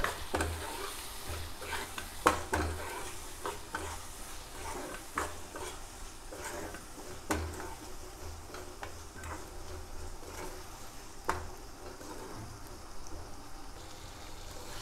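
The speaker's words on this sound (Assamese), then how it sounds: "এতিয়া মই এইখিনি ভালদৰে ভাজিম" Turmeric, salt, cumin and coriander powder frying in a pan with oil, a soft sizzle under scattered scraping stir strokes and sharp spoon taps against the pan, close and fairly quiet.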